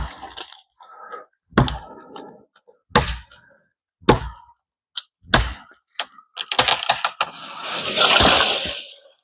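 A tree felled with an Estwing 26-inch camp axe gives a series of sharp, loud cracks and snaps as it levers over, ending in a longer crashing rush as it falls.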